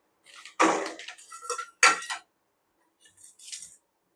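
A knife cuts through oyster mushrooms in a few separate, close strokes, each a short scraping and tapping burst, with pauses in between and no voices.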